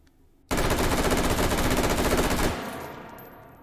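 An M4A1 carbine in the H3VR virtual reality game fires 5.56x45 NATO rounds in a sustained fully automatic burst of about two seconds, loud and close, then a fading echoing tail.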